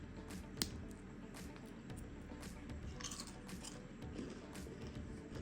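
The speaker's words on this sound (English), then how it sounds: "Listen for the crunch." Someone bites into homemade freeze-dried carnivore meat crackers, producing faint, close, irregular crunches and chewing in an otherwise quiet room, with one sharper crack early on.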